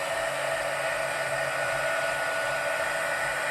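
Heat gun for card making blows a steady, even broadband hiss and whoosh, constant and close throughout with no voices.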